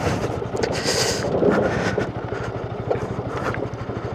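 A motorcycle rumbles down a rough, broken mountain plateau road, its engine chugging up close amid steady wind buffeting and jolts from the uneven surface, with no talking.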